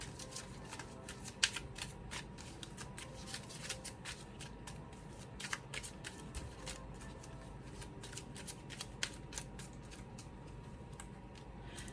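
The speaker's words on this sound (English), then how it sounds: "We're gonna reshuffle." Tarot cards being reshuffled by hand make a close, quiet stream of rapid riffling flicks and soft clicks, steady and continuous with occasional sharper snaps and no voices.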